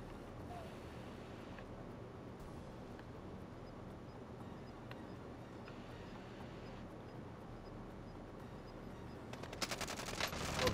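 Gunfire in Warzone, quiet and distant for most of the stretch over a low rumbling bed, then a quick burst of rapid shots rises near the end.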